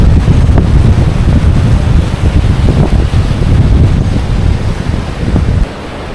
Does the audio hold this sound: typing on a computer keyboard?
no